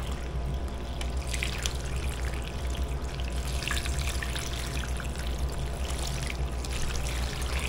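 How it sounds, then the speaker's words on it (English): Liquid pours steadily into a pan set up for smoking a turkey, a continuous trickling, splashing stream heard close and alone for several seconds. "Now we're gonna fill it up with the liquid."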